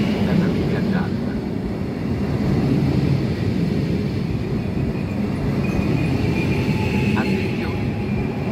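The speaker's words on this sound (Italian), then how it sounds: "Treno di transito binario 4 allontanarsi dalla linea gialla." A transit train passes through platform 4 of Ferrara station, producing a loud, continuous rolling rumble with faint metallic squeals near the end.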